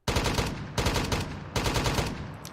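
Call of Duty style gunfire plays as game sound effects in three loud, close bursts of rapid automatic shots, each cutting off abruptly before the next starts.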